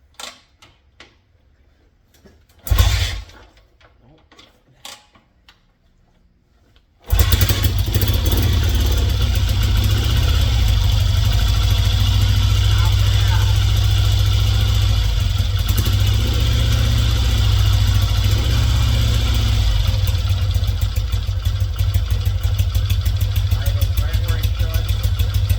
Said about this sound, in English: And we'll see if it'll start first kick.